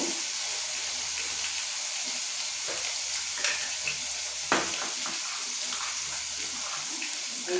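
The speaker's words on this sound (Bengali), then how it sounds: "আলুগুলো লাল লাল করে ভেজে নেব।" Potatoes frying in a pan, a continuous bright hissing sizzle that holds steady throughout, with an occasional soft clink or shift in the pan.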